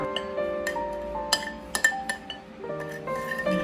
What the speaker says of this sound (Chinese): 再用勺子将它搅拌均匀。